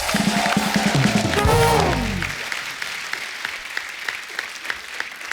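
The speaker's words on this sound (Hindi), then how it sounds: "दादा के लिए जोरदार तालियां हो जाएं एक बार।" Studio audience at a Hindi comedy talk show applauding, first partly under a swelling musical cue, then continuing as steady clapping once the music fades.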